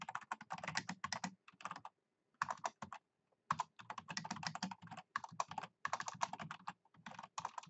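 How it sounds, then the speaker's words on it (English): Quick, close clicking keystrokes on a computer keyboard while someone types code, coming in bursts with short pauses between them, with no talking. "I really am struggling to type the word variable right now."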